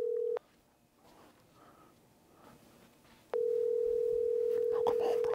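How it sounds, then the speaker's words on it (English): Phone call ringback tone while waiting for an answer, a steady electronic tone heard twice, a short burst and then a longer stretch, separated by quiet with faint murmurs. "Please answer the phone"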